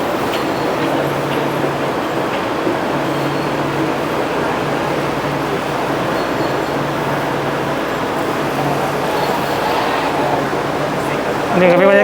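Bangkok's Gold Line electric train at an elevated station gives a steady, even rumble and hum that runs for the whole stretch and swells slightly near the end.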